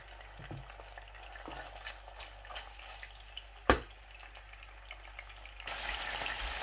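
Tawa chicken pieces sizzle and fry in a pan, a soft crackling hiss with a sharp clink near the middle and the frying growing louder and denser at the end.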